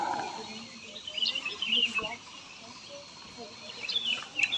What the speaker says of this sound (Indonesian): Masih banyak suara burung,